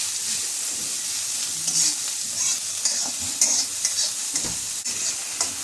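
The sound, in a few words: onion frying and being stirred in pan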